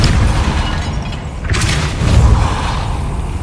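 A Depulso spell cast in Hogwarts Legacy, a muffled booming burst with a mechanical rush midway, sitting in a steady low rumble of game ambience, loud and close.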